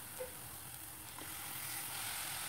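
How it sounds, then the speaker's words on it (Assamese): Fish pieces hiss in a hot non-stick wok with no oil added, a soft, even, close sizzle that swells slightly toward the end, with a faint clink early on and no talking. "এতিয়া গৰম কেৰাহীত মাছ টুকুৰাবিলাক দি দিলোঁ।"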